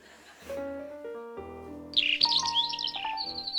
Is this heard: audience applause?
no